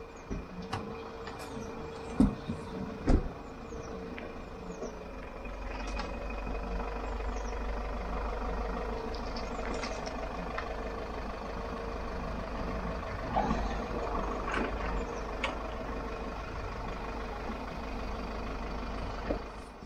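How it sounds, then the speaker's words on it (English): A recovery truck's spec lift, worked by remote, edges under an Audi R8 4.2 V8 over a steady diesel idle, with faint clanks and whirring mechanical movement near the start. "next part is putting the spec lift under the R8"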